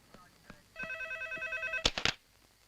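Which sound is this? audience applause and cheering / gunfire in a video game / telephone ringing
telephone ringing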